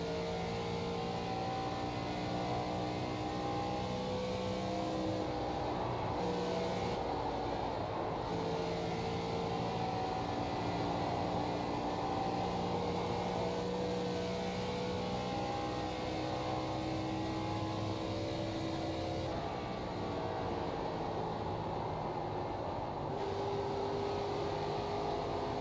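An ARCA race car engine drones steadily through a full lap of Darlington in iRacing, holding a constant high-revving tone with slight pitch shifts as the car lifts and accelerates through the turns, with no talk.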